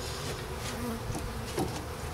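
Honey bees buzz steadily around an opened hive during a spring inspection, a dense, close, continuous droning hum with no talk.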